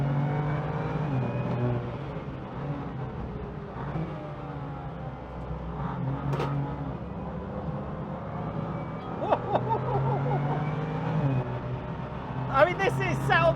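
A 580 hp BMW M2 race car lapping a cold track near snow, its engine droning steadily and rising in revs with brief louder surges, heard from inside the cabin with someone talking over it.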